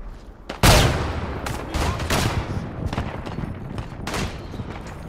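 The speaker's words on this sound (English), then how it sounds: "Oh, that's a grenade." A grenade blast in the WWI video game Isonzo, one sharp loud boom followed by scattered rifle and machine-gun fire across a mountain battlefield.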